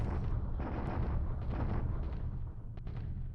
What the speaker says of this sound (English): Day 2 of our bombardment at Chunk King.